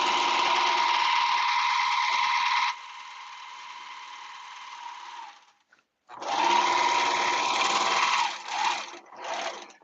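A sewing machine stitches embroidery on a caftan, running fast and steady, shifting to a softer pace, pausing briefly, then restarting in uneven bursts nearby.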